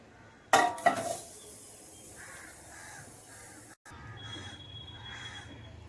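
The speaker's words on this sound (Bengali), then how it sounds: "ঢাকনাটা সরিয়ে নিচ্ছি।" The lid comes off a pot of Kolkata-style chicken dum biryani with a sharp metallic clank and a short rattle near the start. Quieter clinks follow, with crows cawing in the background.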